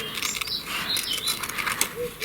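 Early-morning birds sing outdoors with scattered bright chirps and short whistled phrases, moderately near, over soft rustling background noise.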